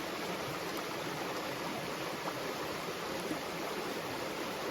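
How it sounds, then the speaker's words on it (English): Water streams steadily from a hiking water filter fed by a bag of dirty water on an Appalachian Trail thru-hike, a continuous, close hiss-like rush with no talk. "And dirty water is in this bag, and fresh water is coming out of it."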